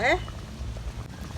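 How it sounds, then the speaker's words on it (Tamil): A pot of sambar with ponnanganni greens and drumstick bubbles at a low simmer, soft and close, with a brief voice at the start. "சாம்பார் நல்லா கொதிஞ்சிருச்சு"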